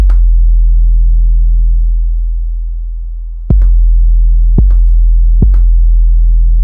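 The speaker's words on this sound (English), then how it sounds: "And then there you go with a nice sounding 808." Deep synthesized 808 sub bass tone made for a Maschine beat, a loud sustained low hum that holds for several seconds, then breaks into three sharp punchy hits, each with a bright click on the attack, alone without talk.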